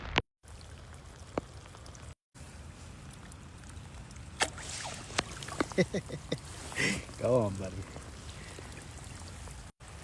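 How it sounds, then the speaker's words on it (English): Steady rain patters through the whole scene beside a trout stream during fly fishing, a continuous hiss with occasional louder drops and splashes, while someone speaks briefly. "I thought the rain was supposed to be done"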